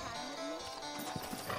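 Horse hooves clip-clop in the Western video game Red Dead Redemption, a few uneven hoof strikes near the end over a soft ambient game background, with a faint whinny-like tone.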